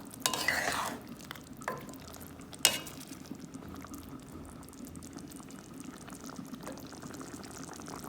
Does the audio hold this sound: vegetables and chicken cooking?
yes